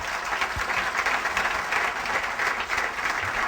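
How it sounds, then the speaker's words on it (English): Conference audience applauding for a speaker named Jordan at the Mirren Conference, a steady, dense wash of clapping from a large crowd that holds at an even level for the full stretch without any speech over it. "All right, let's give a round of applause"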